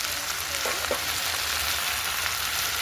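Chicken curry frying with turmeric in a pan on a wood-fired stove, a steady broadband sizzle throughout with a couple of soft stirring scrapes early on, no talking.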